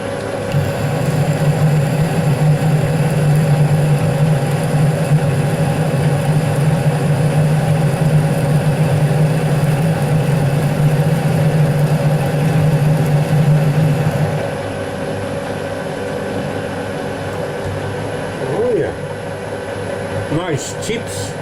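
A metal lathe takes a light 0.1 mm cut on a locknut thread for a rotating welding positioner, giving a loud, steady machine drone that drops to a quieter hum partway through, with a few faint clinks near the end.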